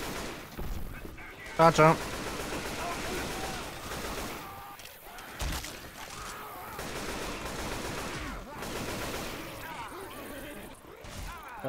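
Gunfire in the zombie shooter game Left 4 Dead 2: dense, continuous shooting and crashing game noise under steady talking voices, with a brief sharp tonal burst near the start.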